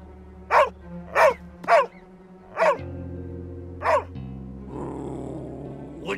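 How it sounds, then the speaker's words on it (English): A dog barks five times in sharp, evenly spaced bursts, with low growling and whimpering between them, close by over a steady background hum. "Would somebody shut up that dog?"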